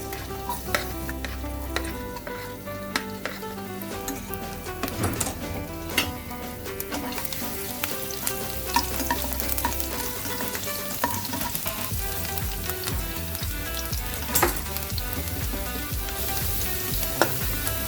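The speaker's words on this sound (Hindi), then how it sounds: "अब इसमें लहसुन डालेंगे।" Garlic sizzles and crackles in a couple of spoons of hot oil for restaurant-style chilli potato, a dense continuous frying hiss with frequent pops and occasional stirring clinks, close and steady without speech.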